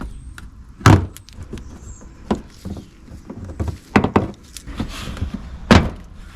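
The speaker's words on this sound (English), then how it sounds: "To begin with, it's just a case of removing" Plastic trim clips popping out of the sill panel on a 2008 Smart Fortwo 451, a few sharp clicks and knocks spaced over several seconds against a quiet workshop background.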